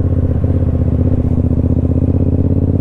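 Motorcycles on the road, including an FZ07 and an XSR, rumbling along with a steady throbbing engine drone and rattle, loud and close throughout with no clear pass-by swell.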